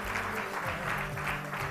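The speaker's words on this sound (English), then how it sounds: "Big round of applause for all these teams." An audience at an ISKCON Bangalore closing ceremony claps steadily in a brief, fairly quiet burst of applause with no talk.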